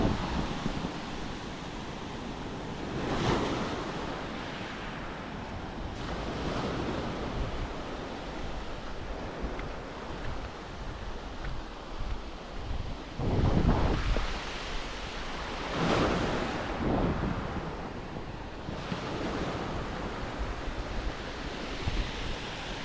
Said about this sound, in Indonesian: Ombaknya udah mulai terasa